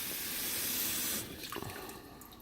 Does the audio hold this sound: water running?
yes